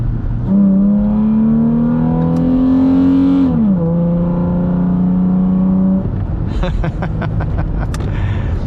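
A third-generation Toyota 4Runner with an upgraded intake revs up loudly, its engine tone climbing steadily, dropping briefly, then holding before settling. Sharp clicks and taps follow at the end.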